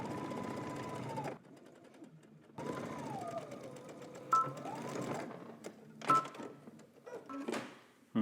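A sewing machine stitches a sleeve seam in two runs of steady whirring with a wavering motor pitch, separated by pauses, followed by clicks and fabric handling noises.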